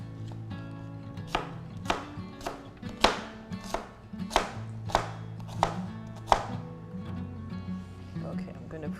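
Knife chopping vegetables on a cutting board for cauliflower soup, about ten crisp, close cuts in an uneven rhythm, with faint background hum.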